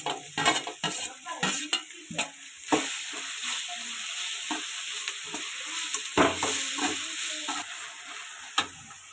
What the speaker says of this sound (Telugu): ఆనియన్ ఫ్రై అయింది ఇప్పుడు టమాటా వేసుకోవాలి